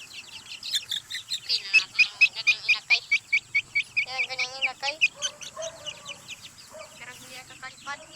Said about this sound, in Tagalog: Tingnan yung manok ko.